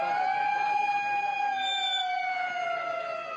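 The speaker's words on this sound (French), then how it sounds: "Une sirène pour alerter le monde des carnivores." A wailing siren sounded at a vegetarian and vegan pride march in Marseille, a loud, steady tone sliding slowly downward and carrying through the whole stretch with no voices over it.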